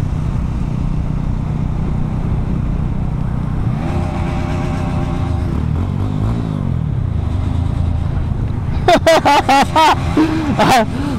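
GPX Demon motorcycles riding in a group of six along 300 Feet Road near Narayanganj, steady engine and road roar with wind, rising revs midway and sharp bursts of exhaust near the end.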